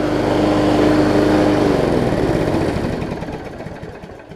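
A Scotts self-propelled push mower with a Briggs Quantum engine runs steadily nearby, its droning engine note holding, then slowly fading as it moves off down a driveway.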